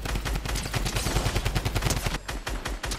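Rapid bursts of automatic gunfire in a video game, dense and loud, with repeated shots running almost continuously for a few seconds.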